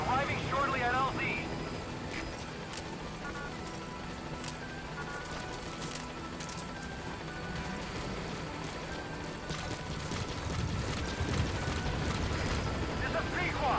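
A support helicopter arrives at the landing zone in Metal Gear Solid V, a constant rotor and engine roar holding steady throughout while voices talk over it.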